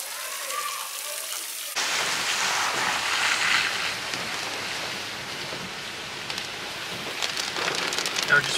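Water splashes and runs steadily at an outdoor washing station at a muddy springs campground as feet are rinsed off, a broad hiss that starts abruptly and continues close and loud throughout.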